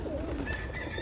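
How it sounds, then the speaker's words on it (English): A pigeon coos softly inside a loft with roller and homer cockbirds, a short rolling coo or two, close but low in level against a faint background hum. "Nice bird."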